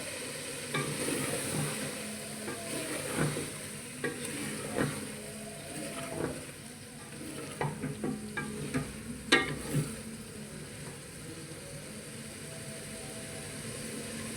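Mutton with peas for Matar Gosht fries in a pan, a soft continuous sizzle broken by repeated scraping and clinking stirs that cluster more densely toward the middle, with no voices.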